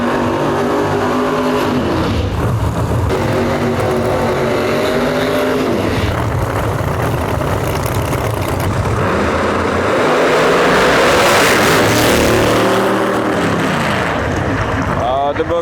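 A drag racing car makes a high-speed run at an outlaw nationals event, its loud engine roaring steadily and swelling toward the end, with a track announcer talking over it throughout.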